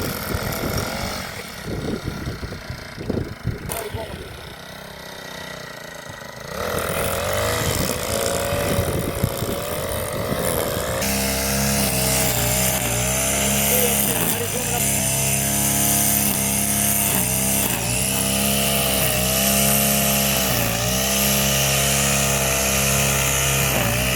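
A petrol brush cutter engine, mounted on a cycle-style trolley, starts up and then runs at a steady high-pitched whine. Its pitch dips and rises slightly as the throttle shifts, and a voice talks over parts of it.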